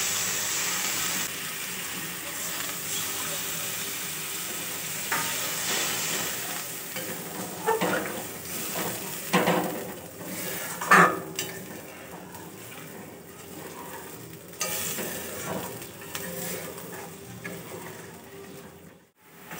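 A jackfruit kofta curry gravy boils and sizzles in a pan, a steady bubbling hiss broken by scrapes and clanks from stirring, close and moderately loud.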